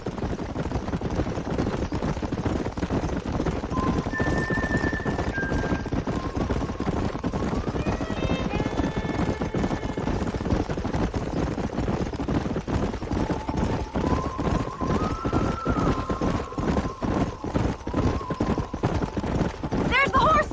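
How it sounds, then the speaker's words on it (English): Horses gallop in the Western video game Red Dead Redemption, a continuous close pounding of hooves with tonal whinny-like calls and music drifting over the top, people talking throughout. "There's the horses!"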